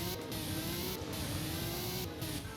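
Aston Martin in the Roblox game Driving Empire accelerating, a steady mid-pitched engine drone holding close and loud throughout with a slight rising sweep, no voices over it.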